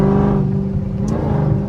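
A Hellcat Chrysler 300C's engine held at steady high revs, a loud close droning roar that stays level throughout with only slight wavering.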